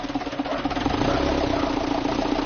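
A tractor engine runs steadily nearby on a goat farm on Chongming Island, giving a throbbing, knocking idle with constant vibration and no voices.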